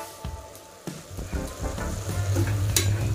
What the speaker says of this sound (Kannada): ಚೆನ್ನಾಗಿ ಈ ಥರ ಮಿಕ್ಸ್ ಮಾಡ್ಕೊಳ್ತಾ ಇದ್ದೀನಿ ನಾನು